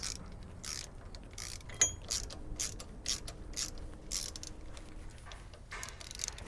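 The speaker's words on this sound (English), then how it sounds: "using a short 11/16 socket and ratchet" A ratchet with a short 11/16 socket clicks in quick, close bursts while turning a bolt on a sway bar bracket of a 2021+ Ford E450 V8 chassis, alone with faint background.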